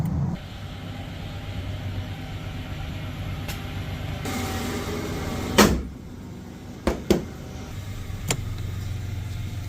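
Ford Ranger pickup truck engine idling steadily after starting, a low even rumble with a few sharp knocks and clunks over it partway through.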